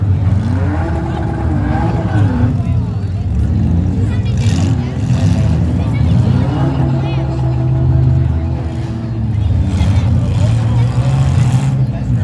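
A demolition derby car's engine revs hard while its bare rim spins and digs into the dirt of the arena, a loud sustained roar that rises and falls under continuous announcer commentary.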